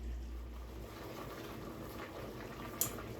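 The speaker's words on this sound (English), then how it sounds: "You can hear the water boiling." Steady low bubbling and rumbling of water at a rolling boil in a pot, continuous and close, with a brief faint clink near the end.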